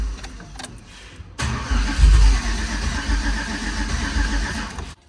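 2005 GMC with a single turbo cranks over and catches, then revs under throttle with a deep loud rumble that holds for several seconds before cutting off suddenly.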